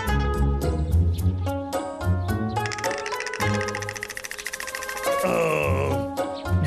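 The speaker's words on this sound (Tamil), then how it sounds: "இந்த டப்ளுக்கு விக்கல் வந்துருச்சு." A cartoon bear hiccups in a series of sharp, voiced bursts over a bouncy animated score, each hiccup distinct and loud, with a wailing tone near the end.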